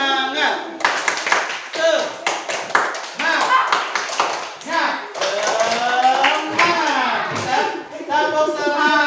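A class of children in a school teaching-practice session clap in a rhythmic chant, sharp hand claps and taps punctuating loud group voices and call-and-response talk throughout.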